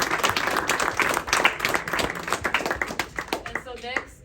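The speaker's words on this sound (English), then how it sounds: "I think y'all deserve a round of applause." An audience claps at an Earth Day wellness center opening celebration, dense close applause that thins into scattered claps, with a voice speaking briefly near the end.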